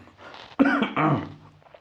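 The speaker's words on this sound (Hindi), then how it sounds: "थोड़ी खांसी आ गई" A person gives a short, close cough, almost like clearing the throat, in a quiet room.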